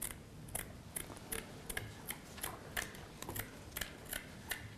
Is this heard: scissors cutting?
yes